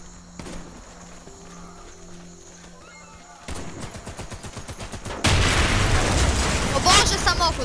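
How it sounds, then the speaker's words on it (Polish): Rapid gunfire in the video game Warface gives way to a much louder, sustained blast as a car explodes, with a voice talking throughout. "samochód wybuchł"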